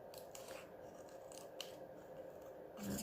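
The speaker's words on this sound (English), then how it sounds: "if I look on this side, I can see the card better where I'm cutting" Scissors snip and rub through craft card in quiet repeated strokes at close range, soft and low, with a slightly louder cut near the end and no voices.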